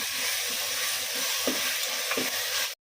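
Tomatoes, salt and other ingredients for mutton biryani sizzling steadily in a pan, with a couple of soft stirring scrapes, loud and close, cutting off abruptly at the end.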